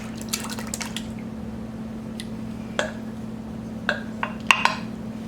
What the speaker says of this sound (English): we are going to pour in our milk half and half mixture